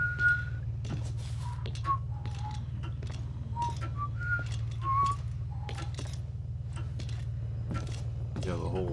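A character in the stealth video game Thief whistles a short, wavering tune of separate high notes over a low steady machine hum, with faint clinks and mechanical sounds mixed in.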